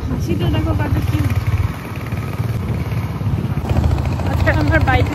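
A motorbike engine hums at a steady pace on a Sunday morning ride, a constant low drone with passing wind noise, while people talk over it.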